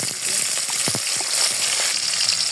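Whole cardamom pods, bay leaf and cloves frying in a pan with chopped onion for a village-style duck curry, a steady close sizzle with a few soft stirring scrapes.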